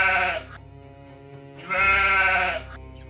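Sheep bleat loudly in two long, harmonic calls with a pause between, close and clear with no talking.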